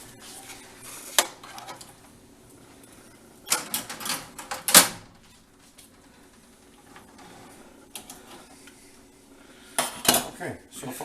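Ribs are turned over in a metal oven pan, with scattered clanks and scrapes of utensils against the pan in a few sharp bursts over a quiet kitchen background.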